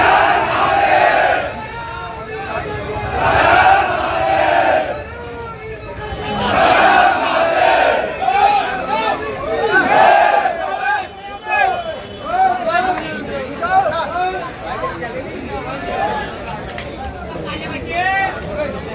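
A large crowd of kanwariyas shouting and yelling in uproar, loud and continuous with surging bursts of many overlapping voices and general commotion throughout.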